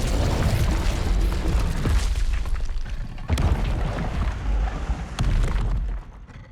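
A sustained roaring burst of fire from the Incendio spell in Hogwarts Legacy, a loud continuous whooshing blaze with a few sharper flares, fading out at the end in a creepy graveyard-like setting.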